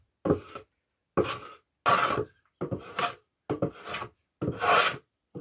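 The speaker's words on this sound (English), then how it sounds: "we do have these sides that protrude a bit, so I'll use my planer to even them out" A hand planer rasps across the protruding sides of a wooden beehive super in seven distinct strokes, each a close, loud scraping burst separated by short silent pauses.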